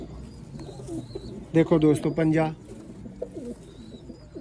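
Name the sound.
black-faced fancy pigeons cooing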